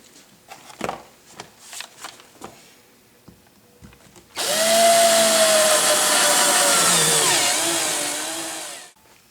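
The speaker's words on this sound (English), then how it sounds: "a 1-inch hole into the dust cover with a step drill or a 1-inch hole saw" A few light taps and clicks come first, then a step drill bores a 1-inch hole through a Yamaha R motorcycle's dust cover, a loud, close, steady whining grind lasting about five seconds before it stops.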